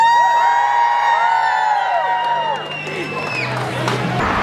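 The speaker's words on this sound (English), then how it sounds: "We're going to do a big cheer for Hannah, okay?" Middle school students cheer loudly for Hannah, a crowd of young voices whooping and shouting together in one sustained burst, with some clapping as the cheer fades out.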